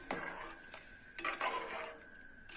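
A pot of Telangana-style kanne fish curry is stirred gently, with soft scraping and light clinks of a spoon against the pot, a few brief louder strokes standing out against a quiet kitchen background.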